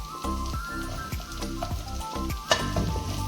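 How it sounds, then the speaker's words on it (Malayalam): Sliced onion and capsicum sautéing with salt in a pan for saucy beef, a busy crackling sizzle broken by repeated spatula scrapes and clinks. "ഇനി നമുക്കതിലോട്ട് സവാളയും ക്യാപ്സിക്കോ ഉപ്പും ചേർത്ത് കൊടുക്കാം."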